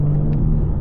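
Turbo intake noise from a BMW G80 fitted with front-mount intakes, heard from inside the cabin with the windows up as a steady low engine rumble and drone.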